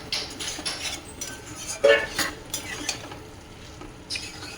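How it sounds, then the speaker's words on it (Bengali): Potatoes and vegetable stems are stir-fried with spices in a pan, with repeated spatula scrapes and metallic clinks over a soft sizzle, close up and fairly regular. "একটু ভালো করে একসঙ্গে কষে নেবো"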